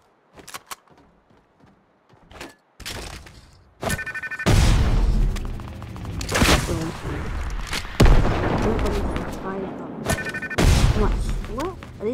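Rocket launcher blasts and explosions in the video game Fortnite, several loud booming bursts at irregular intervals mixed with other game sound effects, with a player's voice talking now and then.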